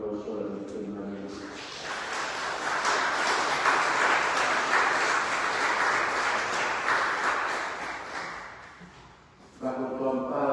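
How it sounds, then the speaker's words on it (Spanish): Congregation applauding inside a church for the Virgin Mary after Mass on the Solemnity of the Immaculate Conception, a dense sustained clapping lasting about eight seconds, with singing or speech before and after. "Damos un aplauso a la Virgen María"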